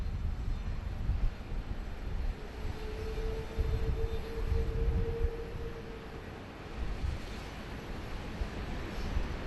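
An Air New Zealand Airbus A320neo taxis at Sydney Airport toward the crossing of main runway 16 right, its engines a faint, steady low rumble and hum under broadband wind-like noise, with a thin whine rising briefly in the middle.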